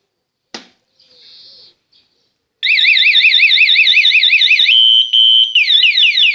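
An Alarm King motorcycle alarm starts with a sharp click and a short beep, then launches into a loud, continuous warbling siren that cycles through rapid sweeping and steady electronic tones.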